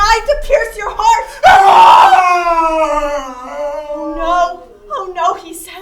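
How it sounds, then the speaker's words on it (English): A scream in an audio drama, a long anguished cry rising out of spoken performance, loud and close rather than distant, with voices talking around it. "we hear a scream from that unholy place"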